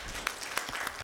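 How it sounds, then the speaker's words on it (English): Brief audience applause at a business festival gathering in Sharjah, a short burst of scattered clapping with a few distinct louder claps before it cuts off abruptly. "Please join me in a round of applause to welcome him"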